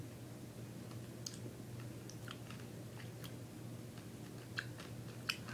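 Someone chews a handful of Sno-Caps, chocolate nonpareils coated in crunchy sprinkles, close up: soft, irregular crunching and clicking, faint over a low steady hum, with no talk.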